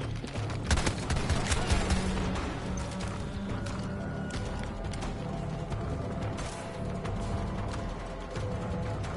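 NVK-S22 shotgun firing in the video game Battlefield 2042, a dense burst of loud gunfire near the start giving way to a steady wash of battlefield noise with scattered shots and mechanical clatter.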